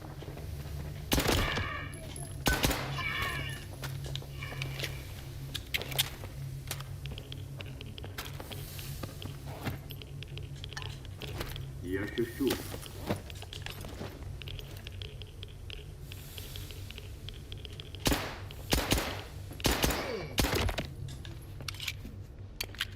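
Pistol shots with armor-piercing rounds in a video game, sharp cracks scattered singly and in quick clusters over about twenty seconds, mixed with game effects and occasional faint voice chat.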